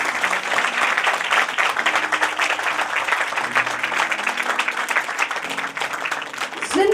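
An audience at a religious sermon gathering bursts into loud, sustained applause, a dense wash of clapping that lasts the whole stretch. Some voices and music are mixed in beneath it.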